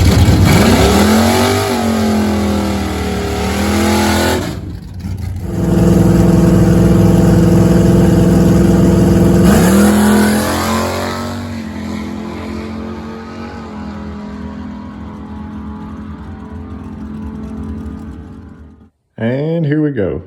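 A Barracuda drag car engine with 3-inch open pipes revs hard and loud at the track, holding a steady raspy roar, surging between pulls, then dropping away before a sudden burst at the end.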